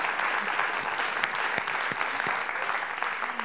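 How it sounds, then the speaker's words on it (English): An audience at a faith event claps together, a dense continuous patter of many hands held at a steady level throughout. "yes, clap."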